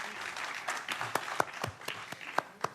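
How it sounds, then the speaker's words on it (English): Audience applause welcoming a panel facilitator at a panel discussion on race and migration, a modest round of scattered claps with a few sharp individual hits standing out over a soft continuous patter. "So maybe another round of applause, please"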